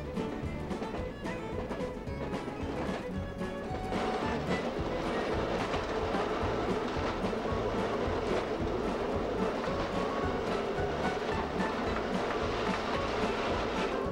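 A railroad motor car rumbles along wilderness tracks in Ontario, Canada, with rhythmic clickety-clack of wheels over rail joints, steady and close, with no voices.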